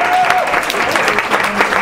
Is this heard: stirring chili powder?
no